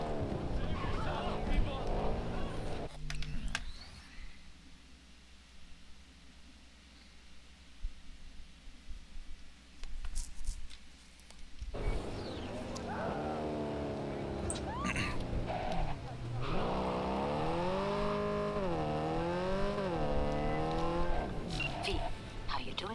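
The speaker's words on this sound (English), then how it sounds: "I love how the car just auto starts when you start to get in it." A car in the video game Cyberpunk 2077, set in Night City, starts up on its own, followed by loud engine revving and rising, sweeping engine tones, with a quieter stretch of low rumble between.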